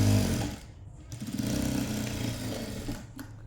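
A sewing machine stitches a fold of fabric down the middle, running as a steady, rapid mechanical whir close by with a brief pause near the start and no talking.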